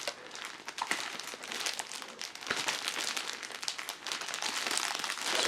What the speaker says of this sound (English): or undoing the wire packaging that's keeping the bag tightly sealed.